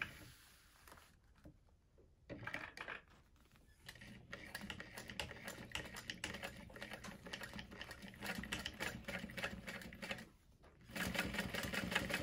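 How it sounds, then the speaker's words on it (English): A sewing machine stitching a leather wallet, running in fast bursts of rapid needle chatter with short pauses between runs, close and fairly quiet, with no talking. "And I'm going to sew it down."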